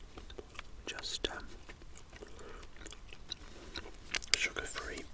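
PK chewing gum is chewed close to the microphone in soft, irregular wet smacks and clicks, with quiet whispering in between.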